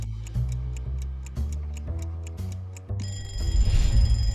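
A phone alarm ringing with a repeating electronic tone pattern in steady pulses, then a brighter, louder tone sequence near the end, close and alone without speech.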